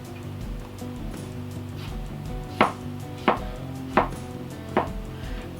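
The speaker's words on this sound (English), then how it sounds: "now I'm going to thinly slice them about an eighth of an inch thick" A knife thinly slices hulled strawberries on a cutting board, about an eighth of an inch thick, giving four crisp, evenly spaced taps close by over a soft background hum.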